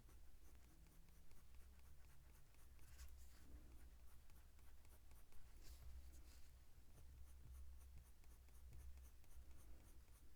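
A burnt sienna coloured pencil moves very lightly across paper in a quiet, close scratching, soft repeated strokes building up fur texture, with no talking.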